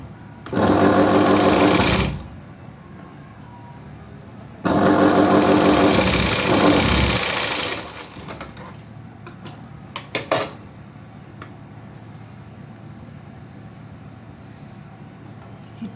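Sewing machine stitching a tuck on a blouse: two loud, steady runs of fast mechanical whirring, each about two to three seconds, then quieter clicks and fabric handling.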